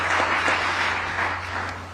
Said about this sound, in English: a loud round of applause for yourselves